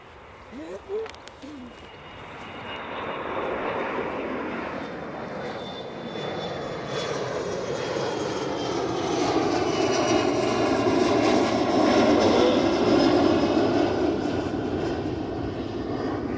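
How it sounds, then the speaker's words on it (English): An ATR turboprop airliner departs Edinburgh Airport, its engine roar swelling from a moderate rumble to a loud, sustained drone that peaks near the end. "So it looks like we've got an ATR on its way out."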